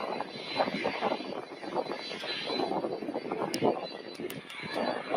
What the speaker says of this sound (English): incoming into the screen, we have another UPS 767 300